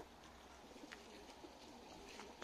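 Pigeons coo softly in a loft housing young birds, faint repeated low calls over a constant hum of background noise.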